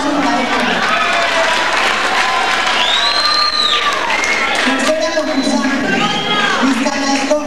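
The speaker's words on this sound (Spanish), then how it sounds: "Muy bien, un aplauso para ella." Crowd at a cultural night applauds and cheers loudly and continuously, with voices and whooping mixed into the dense clapping throughout.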